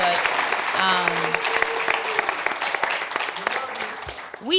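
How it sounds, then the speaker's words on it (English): Applause from a panel event audience on the economic contributions of women of African descent, clapping and crowd murmur with voices talking over it, steady and then dropping near the end. "we should give her another round of applause for that"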